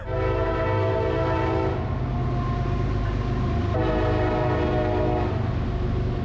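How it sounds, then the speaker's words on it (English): A loud train rumbles close by with a sustained blaring horn, the horn's chord shifting pitch partway through over heavy continuous rolling noise. "we're right next to the train tracks here, so we're gonna let this train go by."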